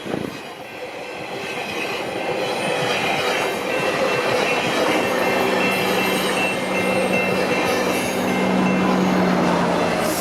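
A GO commuter train rolls past nearby on Progress Avenue in Scarborough, Toronto, with a loud, continuous rumble of wheels on rails, a steady roar and a faint high squeal toward the end.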